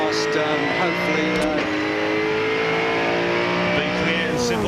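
Ford touring car racing engine from John Bowe's Cat Racing Ford at Queensland Raceway in a 1999 Shell Championship race, loud and continuous onboard, pitch sweeping as the V8 revs up and down under faint commentary.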